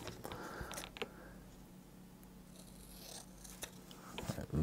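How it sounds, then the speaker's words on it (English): Scissors snip through a small piece of tape, making faint, close cuts and rustles in a quiet room. "I'll just get a little piece of this tape, and then I'm going to cut that one off."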